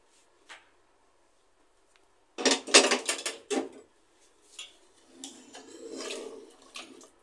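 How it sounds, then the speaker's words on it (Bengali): A metal pressure-cooker lid is twisted and lifted off after cooking beef trotter nihari, giving a quick burst of clattering metallic clanks and scrapes, followed by quieter handling clinks and a soft rush. "আমি এখন প্রেসার কুকারের ঢাকনাটা উল্টিয়ে নেব।"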